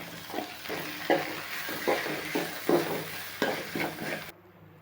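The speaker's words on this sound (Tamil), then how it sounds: "கிண்டி விட்டுக்கலாம்." Tomatoes for veg kurma sizzle and fry in a pan while a spoon scrapes and stirs in a steady rhythm, the sizzling cutting off near the end.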